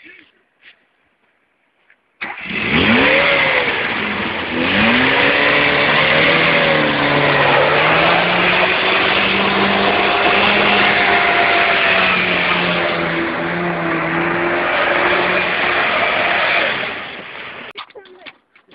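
Car drifting at Yusufeli with the engine revving hard, a loud sustained roar with rising and falling pitch sweeps that runs for about fifteen seconds after a brief quiet start, then cuts off.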